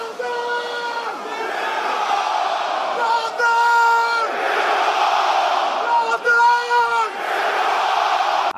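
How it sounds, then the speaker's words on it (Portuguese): A stadium crowd at a fight event roars a call-and-response war cry, loud massed voices surging in two strong bursts over a constant roar. "Ele orquestrou com a torcida um grito de guerra."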